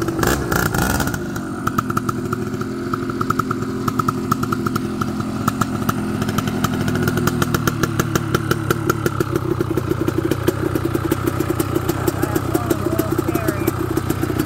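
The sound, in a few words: Suzuki LT250R quad engine revving under throttle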